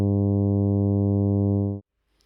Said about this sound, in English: Let's also listen to a 0D auditory mark.